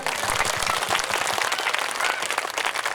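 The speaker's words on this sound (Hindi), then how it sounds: "ताली बजाई बढ़िया रे" An audience claps at a Bhojpuri Ram Katha religious discourse in Deoria: dense, steady applause filling the whole stretch at an even level.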